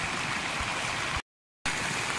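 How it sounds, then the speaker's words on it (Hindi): Steady, dense hiss of rain falling on and around a phone held outdoors, continuous and close, broken only by a brief dead-silent gap before resuming; no talking. "फ़ोन पे पानी बारिश पड़ रही है।"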